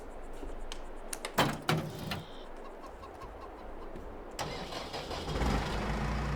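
In Farming Simulator 22, a door clunks, then a T6 tractor engine cranks and catches into a steady mid-pitched idle, with a rooster faint in the background.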